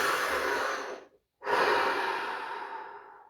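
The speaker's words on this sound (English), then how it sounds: "Take a deep breath." Two deep breaths close to the microphone: a long airy inhale, a short pause, then a long slow exhale that fades gradually, part of a guided relaxation exercise.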